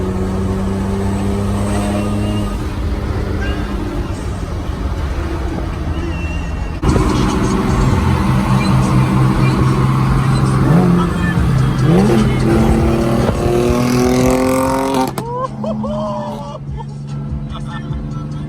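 Turbocharged S52-powered BMW E30 cruising in fifth gear on backroads, a steady loud engine drone with harmonic tones running throughout, rising slightly midway and easing off near the end.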